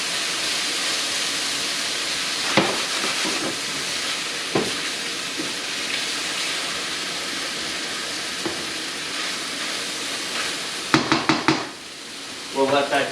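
Finely chopped onions sizzle and hiss steadily in a hot pan, with occasional stirring scrapes and clicks, growing more clattery toward the end.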